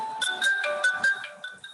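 A mobile phone rings for an incoming call during a recorded lecture, playing a short bright melodic ringtone of quick tonal notes, fairly loud and alone.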